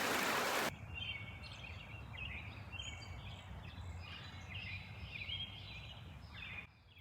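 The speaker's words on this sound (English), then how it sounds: "We're just going to listen to the birds here at the end of a dead-end road" Birds sing at dusk at the end of a dead-end road, with scattered bright chirps and short phrases over a soft, steady outdoor hush, faint and fairly distant.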